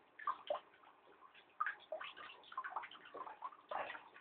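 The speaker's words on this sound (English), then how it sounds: "And that's how much water the pump is pushing through." Water pumped into a homemade bio-filter chamber, flowing and gurgling steadily with irregular splashes and bubbling bursts, close and fairly quiet.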